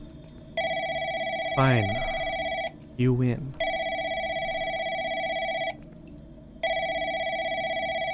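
Telephone bell ringing in a horror video game, repeating in long electronic bursts with short pauses between them, loud and close, while someone talks briefly over the gaps.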